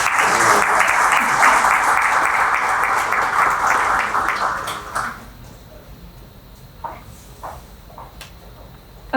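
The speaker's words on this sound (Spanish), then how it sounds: "Recibimos con su aplauso al doctor Germán Miranda Villalona." Loud, sustained applause from an audience welcoming a speaker at a legal lecture on drug-trafficking case law, fading out after about five seconds, leaving a quieter room with a few faint knocks and rustles.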